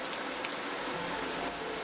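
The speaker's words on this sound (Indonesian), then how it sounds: "Sore hari, hujan masih cukup turun dengan deras." Heavy afternoon rain falls steadily, a dense, even hiss of drops on surfaces with no breaks.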